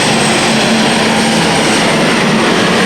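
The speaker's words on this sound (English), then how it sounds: "International Magnum, 3 turbos, 1800 horsepower, and that's Ian Ross in the saddle." An International Magnum pulling tractor with three turbos and 1800 horsepower at an indoor tractor pulling event at Ahoy Rotterdam, a dense, loud, sustained turbine-like engine roar that stays steady and close throughout.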